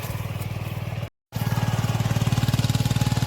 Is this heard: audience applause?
no